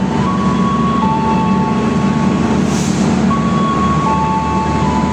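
Gaya Baru Malam Selatan passenger train departing Lempuyangan station, a steady loud rolling rumble with a sustained whistle-like tone, continuous throughout.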